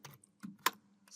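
A few sparse keystrokes on a computer keyboard, close and quiet, with gaps between the taps.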